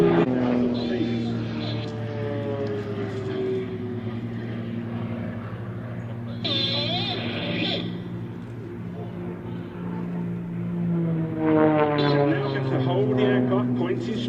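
Propeller aerobatic aircraft of the Blades display team roll through synchronized aileron rolls, engines droning steadily with rising and falling pitch as they pass, heard under continuous commentary.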